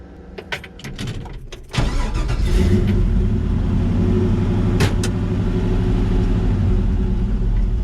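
A Chevrolet Nova engine starts and settles into a steady running hum, with a few clicks and thumps from inside the vehicle beforehand, after a hydroboost brake swap.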